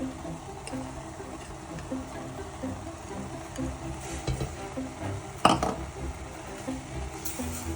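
Spinach, onions and grated coconut are stirred in a pan for keerai masiyal, a quiet simmering sizzle with soft scraping stirs and one sharper clatter partway through, close and low in level.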